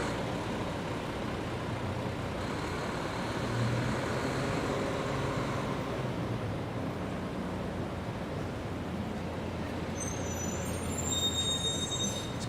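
A big garbage truck idles on a midtown Manhattan street, its steady diesel rumble loud and close throughout, with a faint high air-brake hiss near the end.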